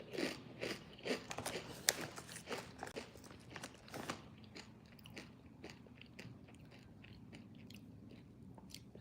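Someone chews a hard, crunchy snack close to the mic, producing a steady run of loud crisp bites and crackling crunches that gradually soften and thin out as the chewing continues.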